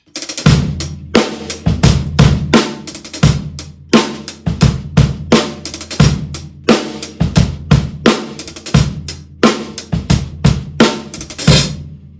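Full drum kit groove with a five-stroke roll worked onto the hi-hat, loud and close, repeating steady bar-length patterns of kick and snare hits under fast hi-hat strokes, played alone.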